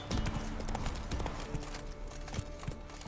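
In Witcher 3, Geralt's horse Roach gallops with rapid, loud, close hoofbeats in a steady rhythm, accompanied by game music and a faint snort.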